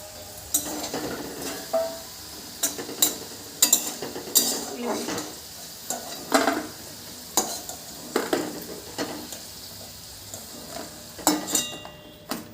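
Potatoes fried deep red in oil are stirred in a pan, with a spatula scraping and clanking in repeated bursts roughly every second over a soft ongoing sizzle.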